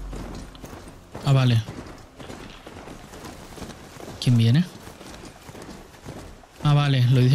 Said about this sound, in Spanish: No sé por qué aquí se me hace como más fácil controlar al caballo